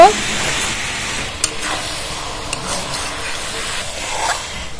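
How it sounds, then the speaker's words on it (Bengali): Mustard paste going into a sizzling spinach curry made with tender shish palong, a soft hissing sizzle with a couple of faint utensil taps, fairly quiet and continuous. "এবার সর্ষে বাটাটা ঢেলে দেবো।"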